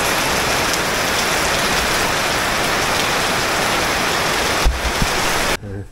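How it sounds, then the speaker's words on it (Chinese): Heavy rain pours steadily outside a home as a dense, loud, continuous hiss, with a brief thump near the end before it cuts off abruptly. "回到家了，下大雨"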